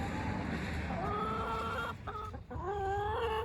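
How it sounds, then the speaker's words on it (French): Backyard hens cluck and squawk in rising, warbling calls as they crowd around at feeding time, heard close and steady with brief pauses. "Je vais aller nourrir mes poules. Je les vois, elles sont là."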